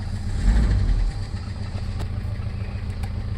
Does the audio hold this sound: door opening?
no